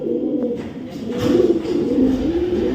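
Racing pigeons coo close by in a loft, giving low, repeated throaty calls that swell and fade over a steady background hum.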